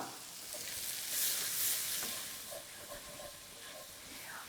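Leeks frying in a pan with butter and leftover bacon fat, a steady close sizzle and hiss with light stirring, no talking.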